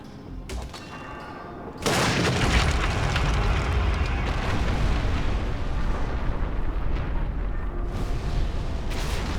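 Gears of the war mills being destroyed in the game The Lord of the Rings: War in the North, with a sudden loud rumbling blast that turns into a sustained roaring, crashing din lasting several seconds.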